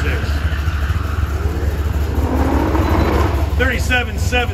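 A 1972 Corvette on an autocross course at a car show, its engine roaring loudly at some distance under an announcer's voice, with a brief high whine near the end.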